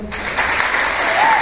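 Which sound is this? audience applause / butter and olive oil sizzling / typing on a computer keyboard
audience applause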